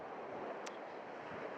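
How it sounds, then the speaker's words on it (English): Ocean surf breaks and rolls on Traigh Bheag beach on the Isle of Harris, a steady broad wash of water with wind buffeting the microphone, close and unbroken. "as those waves come in, they're just probably going to knock me off my feet"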